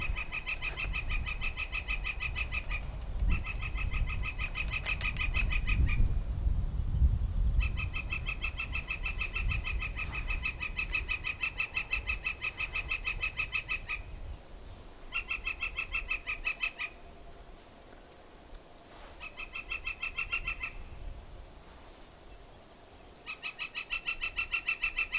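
A bird calls outdoors near a mountain painting spot, repeating bright, rapid chirping phrases in regular bursts with short pauses, steady and fairly close over faint background rumble and wind.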